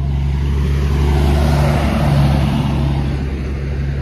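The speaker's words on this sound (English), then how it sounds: "Get this big ass truck out the way." A loud, steady low engine rumble of a big truck drones close by, constant throughout with no voices.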